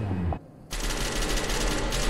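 Rapid automatic gunfire in SCP: Secret Laboratory bursts in loud and dense after a brief lull, then hammers on without pause to the end.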